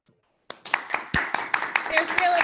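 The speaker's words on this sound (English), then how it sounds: "applause here." A small audience at an academic panel on gender, sexuality and culture breaks into brief, scattered applause after a presentation, the individual claps sharp and close and quickly building to a patter.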